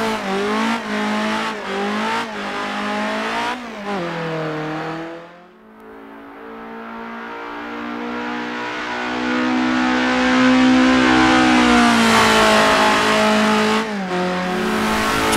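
Race car engine in a sim racing game, revving hard before a sharp heel-toe downshift that drops the note, then climbing steadily again as the car accelerates, loud and close with no talk.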